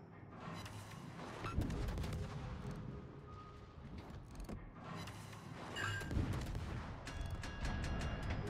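Warship guns fire in the naval video game World of Warships, with heavy booming salvos and rumbling blasts layered over continuous battle noise, loud and close.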